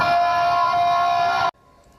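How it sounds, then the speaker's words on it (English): A loud, steady flash flood warning siren wail holds one sustained tone for about a second and a half, then cuts off abruptly into near silence. "Yeah, those sirens are working."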